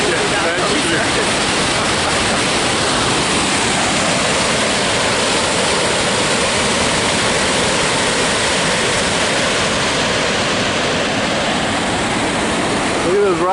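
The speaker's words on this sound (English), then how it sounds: "there's a beautiful view of those amazing waterfalls" Kakabeka Falls in Ontario, Canada, pours in a loud, continuous roar of rushing water, a steady broadband wash close by with no break across the whole stretch.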